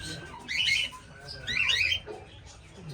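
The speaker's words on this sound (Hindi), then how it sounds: "ये देख सकते हैं आप कितने वाइट कलर के तोते हैं और ग्रीन कलर के तोते हैं।" Ringneck parrots, white and green birds, give two loud, harsh squawking calls, with fainter chirps and background noise in between.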